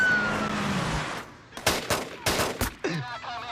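AK-47 assault rifles fire in a street shootout against armored robbers, sounding as several loud, sharp bursts in quick succession after a quieter rumbling stretch.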